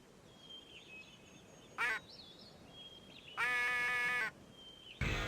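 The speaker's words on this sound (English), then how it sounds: "Just a basic duck call. I'm going to blow just a few simple quacks." Duck call quacks in the PSP hunting game Cabela's North American Adventures: three nasal, reedy blasts, a short one, a longer drawn-out one, then a final one cut off, over a quiet background.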